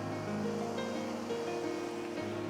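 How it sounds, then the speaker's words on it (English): Ocean waves wash steadily against sharp coastal rocks, a continuous close rush of surf with no pauses or voices. "Now I'm at the mercy of the waves here"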